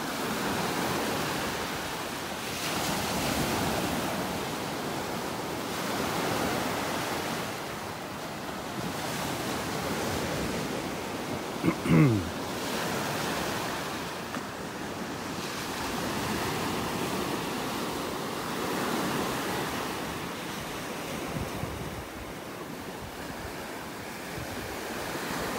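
Waves rolling onto the beach at North Naples, Florida, in slow repeated surges of broad surf noise, mixed with wind buffeting the microphone, with no one speaking.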